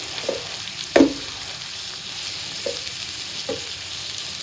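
Garlic and ground dried shrimp fry in a pan with a steady, soft sizzle, broken by a few sharp scrapes and clinks of stirring, the loudest about a second in; no one speaks.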